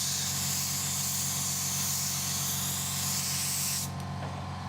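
Resolene finish coat being sprayed in a steady, close hiss that holds level for about four seconds, then cuts off, leaving a quieter room tone.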